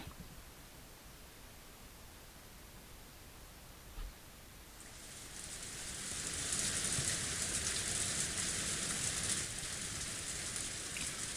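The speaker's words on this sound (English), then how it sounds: "All that could be heard is the sound of the rain" Rain in the visual novel game Umineko: a soft, steady wash of rainfall that starts faint, then swells midway into a brighter, louder hiss of heavier rain that holds to the end.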